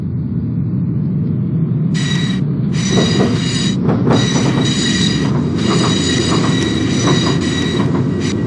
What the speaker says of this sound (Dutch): This is a line T2B tram to station Buitenvelden.